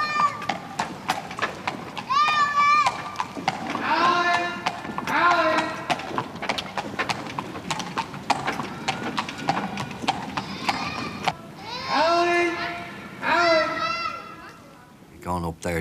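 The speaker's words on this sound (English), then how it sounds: "give way to horse traffic there" A workhorse's hooves clip-clop in a steady, regular rhythm on a hard Dublin street, with high children's voices and chatter mixed in over the top.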